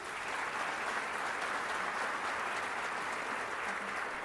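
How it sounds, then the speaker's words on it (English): Steady applause from a crowd at a volunteer recognition awards ceremony fills the whole moment, even and sustained without peaks, with no voices over it. "Another big round of applause for him."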